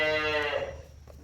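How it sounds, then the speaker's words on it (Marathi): One cow gives a single short, close moo that trails off into quiet barn background. "तर एवढा सगळा राडा करून गाय आतमध्ये आले"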